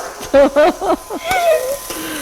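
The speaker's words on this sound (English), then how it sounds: "So we're just gonna let that cook a bit till it gets brown" Minced meat with garlic and crushed ginger sizzles in a frying pan, a close, steady hiss under a person talking.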